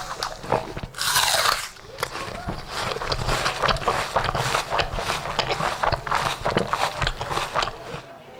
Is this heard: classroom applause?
no